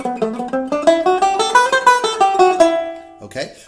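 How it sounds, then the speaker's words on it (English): Guitar climbs and descends through a minor scale position starting from the root, a steady stream of single picked notes, clear and close, ending with a short scraping slide. "which starts with this root and will sound like this going all through the position."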